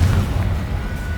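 Confringo blast spell exploding in the video game Hogwarts Legacy, a single brief booming burst, loud and close, fading quickly into a low rumble.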